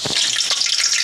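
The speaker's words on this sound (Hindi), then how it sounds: "प्याज को लाल होने तक पका लेंगे।" Onions frying in a pan until browned for beef nihari, a bright continuous sizzle with a brief stir near the start, close up and with no voices.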